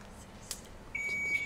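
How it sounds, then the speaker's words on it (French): A quiz-game electronic buzzer sounds as one steady, thin, high tone that starts suddenly and holds for about half a second, faint over a low background hiss, with no talk. "C'est normal, le buzzer est encore là."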